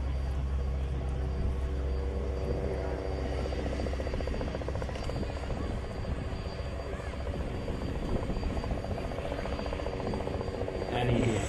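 An Avro Anson, a vintage twin piston-engine aircraft, takes off at an air show, its engines a steady, heavy droning rumble carried from a distance, with faint voices in the background.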